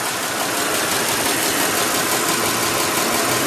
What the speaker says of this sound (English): start with the engine, which is so quiet, you don't even know it's running